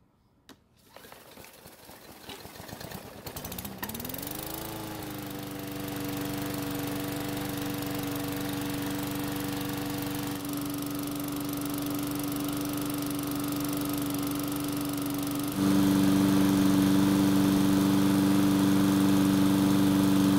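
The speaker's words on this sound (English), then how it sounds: "the mower started easily, even with a very soft pull from a 6-year-old" A Murray lawn mower's small engine catches after a light pull-start and settles into a steady, close idle hum that grows slightly louder and firmer toward the end.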